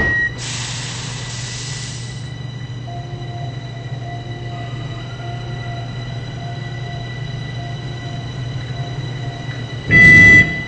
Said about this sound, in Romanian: atenție, se închid ușile